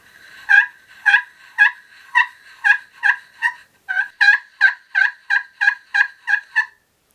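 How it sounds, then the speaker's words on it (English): A turkey pot call worked with a striker gives a rapid string of about sixteen sharp, raspy yelps. The yelps are close and loud, arrive in a steady rhythm with one brief pause partway through, and play against otherwise silent surroundings. "A pot call, I think he called it. Get a little turkey on the striker."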